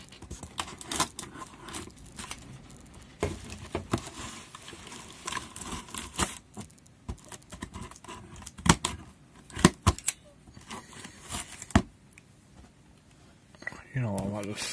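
Scissors snipping and scraping at a cardboard box from Halfords, a series of irregular sharp clicks and rustles close by, with someone talking intermittently between the cuts.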